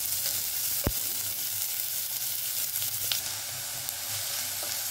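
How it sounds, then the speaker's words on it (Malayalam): Chopped onion sautéing in a pan for paneer masala, a fairly quiet continuous sizzle marked by a sharp utensil knock and a few light stirring scrapes, heard up close with no voices. "നമ്മൾ അരിഞ്ഞു വെച്ചിരിക്കുന്ന സവാള ഇടാം. നല്ലോണം വഴറ്റുക"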